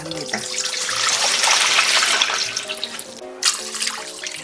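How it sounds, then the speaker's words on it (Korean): Water poured steadily into a container to make pickling brine for perilla leaf kimchi, a rushing stream that swells and then tapers, with a brief splash near the end. "물 2리터를 준비를 합니다"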